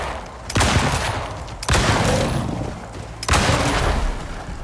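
Three sharp explosive gunfire bursts from a gun loaded with explosive ammo in a Prometheus New Frontiers Arctic game mission, each a loud crack with a booming tail, spaced about 1.5 seconds apart.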